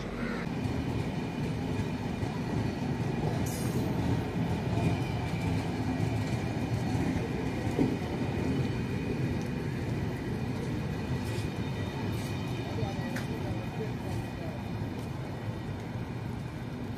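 Sabari Express train pulling out of a station platform, a steady broadband rumble of rolling wagons and wheels running throughout, with occasional faint squeals and crows cawing in the background.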